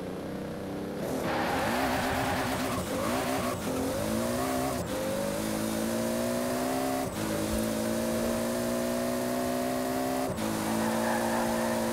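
Hot Wheels car with a 2JZ engine launching from 4,000 RPM in Forza Horizon 4, a loud rising engine howl climbing through several sharp gear shifts, with tire noise at the start and no talk.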